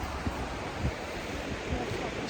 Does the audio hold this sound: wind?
yes